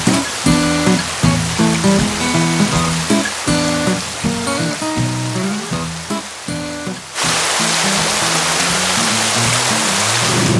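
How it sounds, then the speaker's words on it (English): Heavy rain pours down on a sailboat at the start of the rainy season, a dense, even hiss that sets in after several seconds of music and stays loud and continuous. "It is absolutely pouring"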